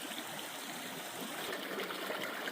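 Water from a mountain stream runs steadily at the head of a hillside irrigation channel near Mohand Marg, a continuous close rushing and trickling with no voices.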